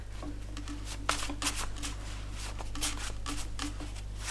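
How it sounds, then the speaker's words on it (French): Tarot cards are shuffled and drawn up close, a run of soft papery riffles and flicks over a steady low hum. "On va tirer une autre carte."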